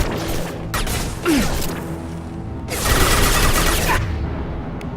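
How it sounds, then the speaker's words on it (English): Enemy gunfire in the sci-fi shooter Mass Effect 2, bursts of rapid shots and booms over a dense, steady game soundscape with mechanical whooshes, loudest in a sustained barrage near the middle. "Oh, and they're shooting at us."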